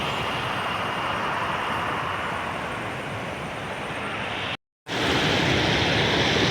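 A flooded village river rushes over a fully submerged check dam, a loud, steady broadband roar of flowing water that continues unbroken apart from one brief gap.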